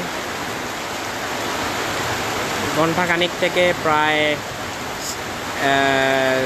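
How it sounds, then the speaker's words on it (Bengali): Heavy rain in Sylhet makes a dense, steady hiss that fills the whole stretch, while someone speaks over it in short bursts partway through. "আপনারা দেখতে পাচ্ছেন সিলেটে কিন্তু প্রচণ্ড বৃষ্টি হচ্ছে"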